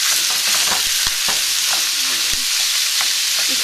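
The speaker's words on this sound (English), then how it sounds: "I'm adding my beef, and I'm going to just break it up a bit." Ground beef sizzles loudly in olive oil in a pan, with steady dense crackle and scattered knocks and scrapes as a wooden spoon breaks it up.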